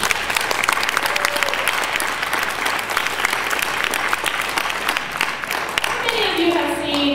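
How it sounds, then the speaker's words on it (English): Audience applause at a hip hop and politics panel, a dense, steady clapping from a room full of people that holds for several seconds with a few brief whistle-like tones near the end. "I want to applaud you for your leadership and your efforts"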